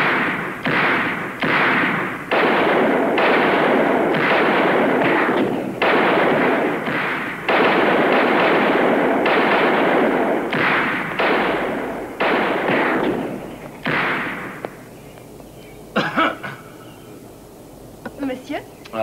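Target shooting produces a long run of loud, sharp gunshots in quick succession. The shots end in a few scattered, quieter cracks.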